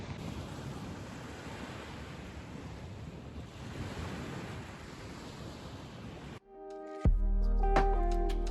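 Waves wash onto the beach beside a beachfront campsite, a steady close surf hiss with wind buffeting the microphone, cut off near the end by a brief burst of music.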